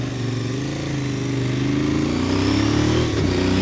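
A motorcycle engine drones loudly and continuously on a difficult rocky downhill in the Italian Alps, its pitch gently rising and falling as the rider works the clutch, with no talking.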